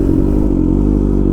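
A motorcycle engine running in a low, steady idle with faint mechanical clatter, close by and without speech.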